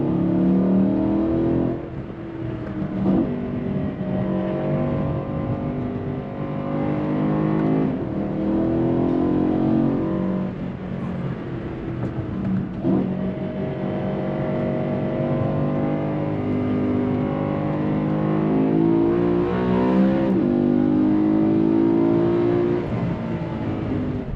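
A 2013 BMW M3 Lime Rock Park Edition with its V8 engine and transmission accelerates continuously, a loud, steady engine drone that rises and falls through repeated revving climbs and gear changes with no talking.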